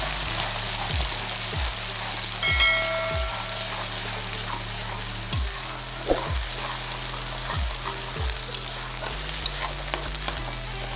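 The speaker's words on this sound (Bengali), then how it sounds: "তো তেলে এবার আমি দিয়ে দিচ্ছি মাছটা।" Coarsely ground shrimp paste fries in hot oil in a pan, a steady, close sizzle with repeated scraping stir strokes throughout, sounding alone with no talk.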